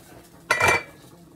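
A packet of sinigang sa bayabas mix goes into a boiling soup pot with one brief, close rustle and clatter of packet and utensil against the pot, and a soft bubbling simmer before and after.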